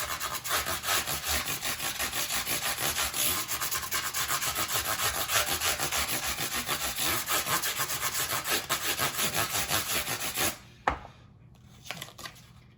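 Strokes of 320 grit sandpaper scour electric guitar frets in a rapid, steady back-and-forth rasp, close and loud, then break off into a few quiet handling taps.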